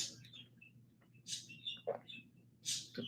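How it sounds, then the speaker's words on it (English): Pet birds kept indoors in a living room chirp in a few short, bright bursts over a steady low household hum, fairly faint and spaced out with quiet gaps between calls. "And my birds are still loud."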